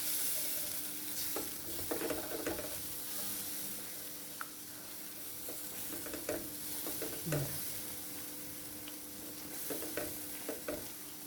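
A sambar spice mix sits in a pan with a little water added, giving a soft, continuous hissing sizzle broken by a few light stirring scrapes and small pops, with no voices.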